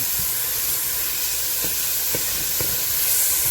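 Chopped garlic, about two teaspoons, sizzles in a hot pan with a steady, close hiss. A few soft taps from stirring sound underneath, and no one speaks.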